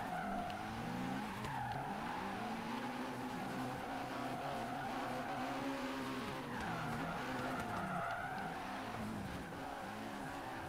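Tandem drifting cars in Forza Horizon 3, with engines revving and rising and falling and sustained tire squeal throughout, loud and continuous game audio.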